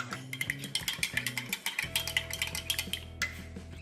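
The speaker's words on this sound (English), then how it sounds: "Let's give that a stir." A spoon repeatedly stirring stewed beef and groats inside a Lithuanian MRE ration pouch, with quick, close rhythmic scrapes and light clinks and a steady low hum underneath.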